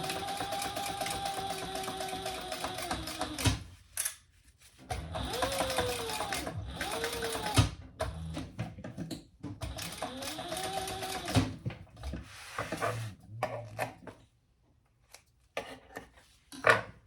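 A sewing machine runs in repeated short whirring bursts with brief pauses between them while sewing a Betsy Bowler pattern. The mechanical hum rises and stops quickly, close by, against a quiet room.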